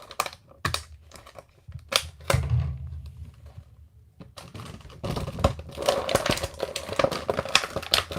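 A ThunderCats Jaga Classix action figure's packaging is cut open at the top, with crisp snipping, crinkling and scraping clicks in irregular bursts, a pause, then busier rustling and cutting near the microphone.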